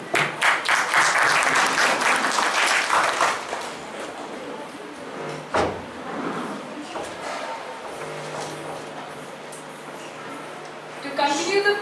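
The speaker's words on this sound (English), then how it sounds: "Let's applaud our talented performers for this incredible musical tribute." Audience applause at a school Republic Day program following a musical tribute, dense and loud clapping for the first few seconds, then fading into scattered claps and murmuring, with a brief burst near the end.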